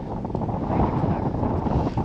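Strong wind of over 10 metres per second on a frozen lake at minus 12 degrees buffets the microphone in a continuous low roar, gusting unevenly, with no other clear sounds.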